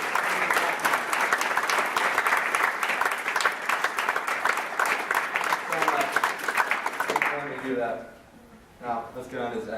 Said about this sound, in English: Give her a round of applause for Kathy.